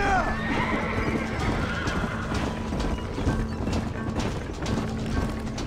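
In the Red Dead Redemption video game, a horse whinnies loudly at the start, then hooves clop and thud in an uneven rhythm along with scattered impact sounds.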